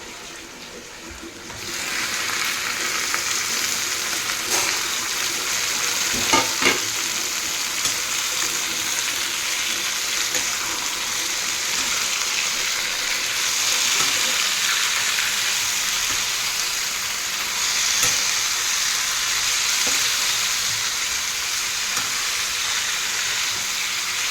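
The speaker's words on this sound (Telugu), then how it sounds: "ఈ స్టేజ్లో మనం టమాటోస్ వేసేసుకుందాము." Raw tomatoes frying in a pan for a tomato pickle, giving a steady loud hiss and crackle that holds throughout, with a few clinks of stirring near the start and middle.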